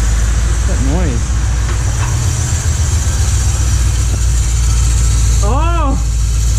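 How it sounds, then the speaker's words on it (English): A Lincoln Mark VIII idles with an exhaust leak, a steady low engine drone that carries on throughout, while voices speak close by over it. "I think we got an exhaust leak already"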